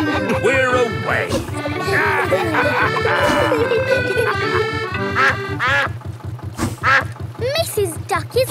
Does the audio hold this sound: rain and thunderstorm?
no